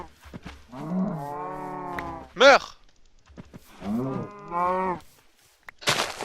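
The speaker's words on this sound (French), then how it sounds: "Mec, il y a une invasion de vaches ici." Cows in a video game moo loudly in two long, drawn-out calls close to the listener, with a short shout from a player between them and a burst of noise at the end.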